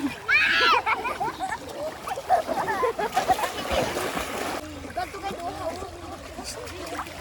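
Children splash and play while swimming in clear water outdoors, with irregular nearby splashes and sloshing mixed with excited voices and shouting throughout.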